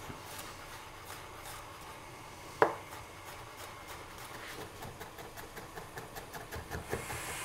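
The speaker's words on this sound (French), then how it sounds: "Pareil, on va couper l'ail." A knife chopping garlic on a cutting board, a steady series of light close taps that quicken toward the end, with one sharper knock partway through.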